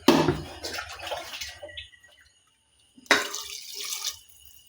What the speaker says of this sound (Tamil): லைட்டாக தண்ணி ஊற்றிக்கலாம்